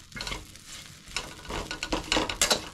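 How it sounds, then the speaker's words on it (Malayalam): Small pieces of sliced wheat bread roast in butter in a frying pan, sizzling steadily while a utensil stirs and scrapes them in quick, close, uneven strokes. "അതിലേക്ക് നമ്മളൊരു 3 സ്ലൈസ് ബ്രെഡ് ചെറുതാക്കി നുറുക്കിയിട്ട് അതിട്ടിട്ട് ഒന്ന് റോസ്റ്റ് ചെയ്തെടുക്കുന്നുണ്ട്"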